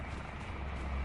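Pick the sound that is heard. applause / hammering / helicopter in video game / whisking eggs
helicopter in video game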